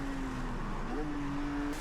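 A Porsche GT4 race car drives on track, its engine holding a steady drone that rises in pitch partway through as it accelerates, continuous and fairly close under broadband road and wind noise.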